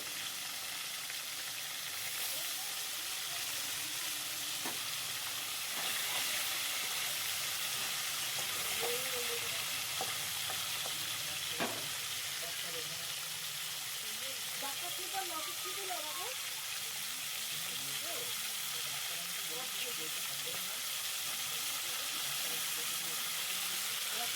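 Crabs sizzle steadily in a pan with occasional pops and stirring clatter, while faint muffled voices come and go in the background.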